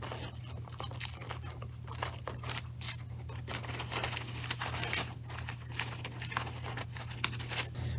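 A paper mache pumpkin stem is bent over and taped down, giving steady crinkly rustles and soft tape crackles over a constant low background hum.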